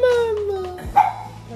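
A dog, a growing young female, lets out a high whining yelp that slides downward, followed by a sharp bark, close and loud, with a person speaking over it in a home setting.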